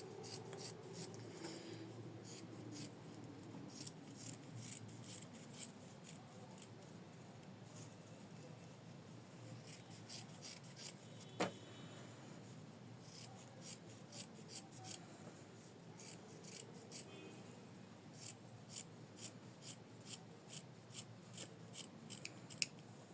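Scissors snipping fabric seam allowance around an in-the-hoop embroidered floral tulip heart: quick, crisp cuts in short bursts of several snips with brief pauses between, close and fairly quiet, with no talking.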